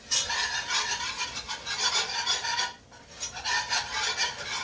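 Seasonings of garlic powder, onion powder, salt and rosemary are dumped and scraped from a mortar into a pot for a pot pie, making a steady scraping rustle with a brief pause midway.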